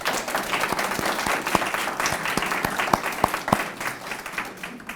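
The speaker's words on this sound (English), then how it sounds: "Let's give them another round of applause." Audience applause at an arts awards ceremony held by a 100-year-old cultural council, a steady dense patter of many hands filling the room with a few sharper claps standing out, with faint voices underneath.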